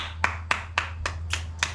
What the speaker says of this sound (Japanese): 自分で拍手します